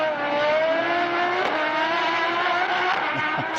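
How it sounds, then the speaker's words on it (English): A mid-engine time attack race car accelerates hard down the straight at a circuit, its high-pitched engine note climbing steadily and sounding loud and continuous, with no talking over it. "Let's just hear it sing down the straight one last time."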